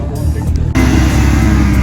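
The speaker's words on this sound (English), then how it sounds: "just revving the car, plates covered, so we're okay" A British Racing Green BMW M3 revs loudly up close, its engine jumping from a low idle rumble into a sustained, steady high-rev roar that holds to the end.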